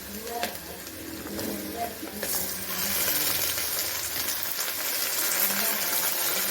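Ridge gourd and tomato sautéing in a pan, a continuous sizzle that swells louder after a soft clink partway through, steady and close, with brief voice sounds early on.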